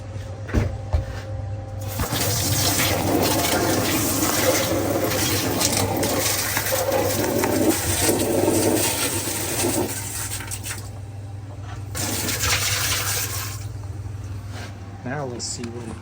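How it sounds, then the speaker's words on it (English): Water pours into a new Maytag MDB4949SKZ2 dishwasher that has a bad motor and filter. A steady, fairly loud rushing splash runs for several seconds, briefly eases, then returns. "Let's put more water in it."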